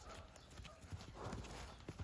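Faint hoof clops and shuffling of a Belgian draft mare in a barn, soft thuds scattered over low background noise.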